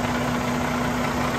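A Detroit DD15 diesel in a 2018 Freightliner Cascadia idles with a steady, even rumble and a constant low hum, close and unbroken, with no talk over it.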